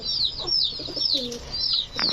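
Very young pigeon squabs, just learning to feed and boxed for delivery, give rapid high thin chirps in close, repeated bursts, with a few low coos mixed in.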